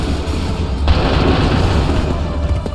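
Dense musket and cannon volley in Assassin's Creed 3, a loud sudden boom followed by a sustained rumbling roar of overlapping shots that fills the whole clip.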